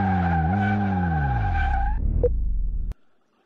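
A car in the Car Mechanic Simulator 2018 video game drives with a loud, droning engine whose pitch dips and climbs, then skids briefly before cutting off abruptly into near silence.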